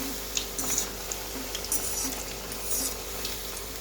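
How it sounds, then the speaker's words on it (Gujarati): Indo-Chinese vegetable pakoras deep-fry in hot oil with a steady, moderate sizzle and crackle, plus a few brighter pops and bursts scattered throughout. "થોડા આપણે ફ્રાય થવા દઈએ"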